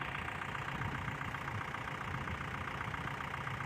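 A steady low tractor engine idles continuously, a rough, even rumble with no change in pitch or loudness throughout.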